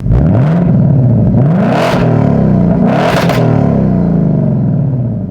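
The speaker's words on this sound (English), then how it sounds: "this thing gets so freaking loud. Listen to the difference. This is quiet mode, and this is race mode." A 2024 Ford Mustang GT V8 exhaust revs loudly in quiet and race modes, with strong rising and falling engine sweeps and two sharp, crackling blips near the middle, no talk over it.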